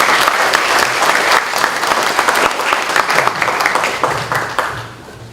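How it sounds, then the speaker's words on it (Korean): A church congregation gives a big round of applause during a Sunday worship service, loud, dense clapping from many people that holds steady and then fades near the end. "우리 큰 박수로 축하드리겠습니다."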